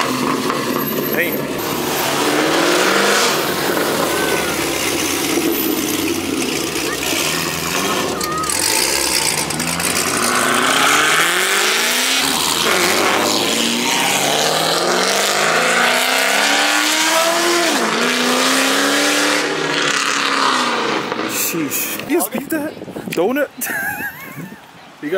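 Cars at a Cars and Coffee meet, a Chevy SS and a Toyota among them, rev hard and pull away one after another, engines rising and sweeping past loudly under crowd chatter.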